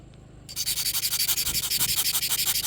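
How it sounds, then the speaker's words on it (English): A tip scraping along an aluminum alloy flashlight body gives a close, steady run of rhythmic rasping strokes that starts abruptly after a brief quiet moment and stays loud, with no talking. "Let's go at it with the tip a little bit here, see if we can get some scratching."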